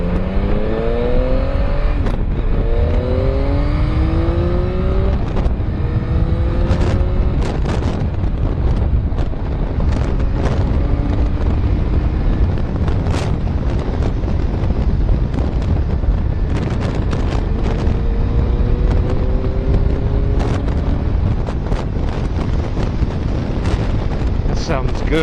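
Yamaha MT09 motorcycle with an updated aftermarket exhaust riding along, a loud continuous engine note rising and falling through gear changes, with rushing wind noise throughout and brief sharper pops and bursts.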